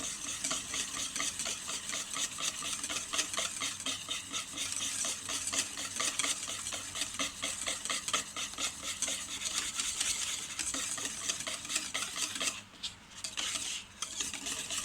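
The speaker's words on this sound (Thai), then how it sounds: "ตีแรงๆเร็วๆนะคะ" Rapid, steady whisking of a sandwich dressing in a bowl while oil is poured in slowly, a dense continuous scraping rattle at close range that runs unbroken, with only a brief pause near the end.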